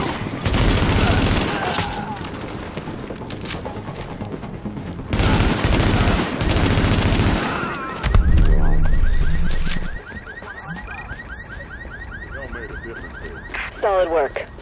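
Heavy bursts of automatic gunfire in a city street firefight in The Division, loud dense volleys in separate waves, then quieter sporadic shots with an alarm-like wail running underneath.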